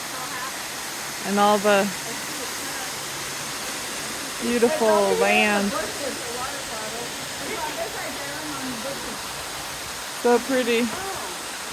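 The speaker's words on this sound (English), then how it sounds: "there's a waterfall from this height." A waterfall at Rock City, heard from a high lookout, gives a steady rushing hiss that runs the whole time while people talk over it in short bursts.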